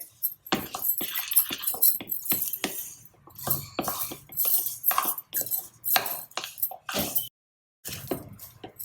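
Spoon scraping and clinking against a pan while a sticky sesame seed and jaggery syrup mixture is stirred for til laddu, a busy run of close, irregular clatters and scrapes with a brief pause near the end.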